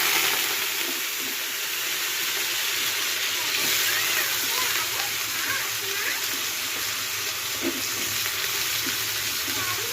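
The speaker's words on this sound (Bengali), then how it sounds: "এই যে কড়াই গরম হয়ে গেছে, তেল দিয়ে দিয়েছি, এবার আলুটা ভেজে নেব।" Potatoes with turmeric and salt fry in hot oil in a wok, giving a steady close hiss and sizzle that runs evenly without pause.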